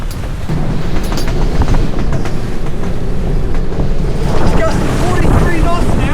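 Strong gusting wind of around 40 knots buffeting a sailboat at sea off South Africa, a loud roaring rumble of wind across the microphone with rushing water and waves beneath, steady and close throughout.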